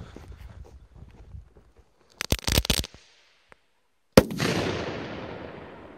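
Funke Titanblitz crackling firecrackers go off outdoors, a rapid flurry of sharp pops followed by a loud blast and a long fading hiss of crackle.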